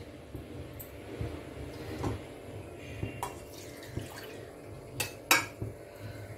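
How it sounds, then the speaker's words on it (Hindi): Mung dal poured from a metal vessel into a pressure cooker in a home kitchen, giving a soft scattered rattle with several sharp metallic clinks against the pot, close and fairly quiet, with no talking. "अब हम दाल को कुकर में डालेंगे।"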